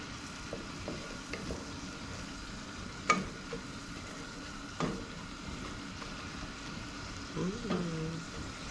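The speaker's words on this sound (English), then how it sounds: "It's really amazing how fast carrots cook when you're sauteing them." Carrots sauteing in a pan, a faint, steady sizzle with a few isolated clinks of a utensil and soft scraping.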